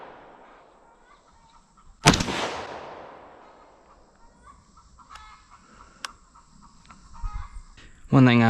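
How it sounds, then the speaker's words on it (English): A 6.5 Grendel rifle fired downrange outdoors: one sharp, loud report with a long echoing decay, then quiet, then a second shot starting right at the end. "I'll show you shooting a few rounds downrange"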